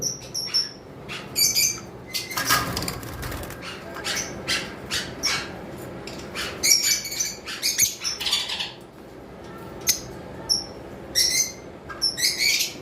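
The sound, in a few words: pet lovebirds and conures chirping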